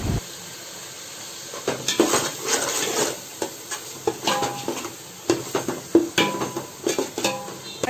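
Metal utensil scraping and clinking against a pot as mutton biryani with yogurt is stirred, in irregular bursts of scrapes and taps, fairly close, no talking.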